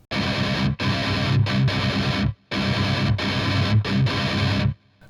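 Heavily distorted electric guitar plays the first breakdown of a song: loud, close palm-muted chugs in two repeated phrases, each cut by short stops and ending in silence.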